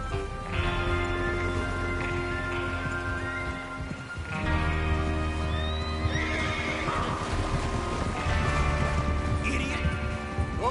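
Horses whinny and hooves clatter amid a busy Red Dead Redemption 2 game soundscape with music, a brief lull midway, and voices talking over parts of it.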